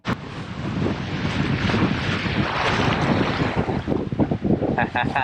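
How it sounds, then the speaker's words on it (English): Strong offshore wind of 18 to 20 knots on a small sailboat buffets the microphone over rushing water and waves, a constant loud roar with a few sharper gusts toward the end. "We probably got 18, maybe 20 knots of wind"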